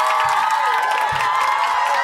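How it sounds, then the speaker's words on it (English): Canned claps and cheers sound effect: a crowd cheering with applause, steady and fairly loud throughout, no talking. "we have claps and cheers you already heard."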